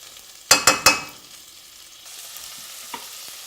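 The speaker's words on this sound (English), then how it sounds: "sear that on about medium heat" Tofu with garlic and ginger searing in a pan on medium heat: three quick, sharp utensil clicks up close, then a soft, steady sizzle hissing quietly underneath.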